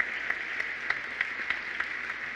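A church congregation applauds their pastor, a steady crowd of clapping with periodic louder accents, moderately distant and continuous with no talking.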